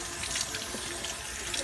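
Water runs steadily from a tap into a sink or jar, a continuous close hiss and splash with no pauses and no talking.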